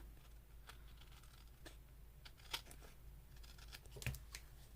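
Scissors cutting paper for a scrapbook page, several short snips and crisp paper rustles scattered over a low background hum, a couple sharper cuts near the end, quiet and close with no voices.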